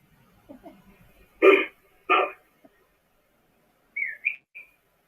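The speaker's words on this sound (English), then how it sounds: "Oh, that sounds like a bird." A few short high chirps sound at a distance after two louder sharp calls, with faint murmuring at the start.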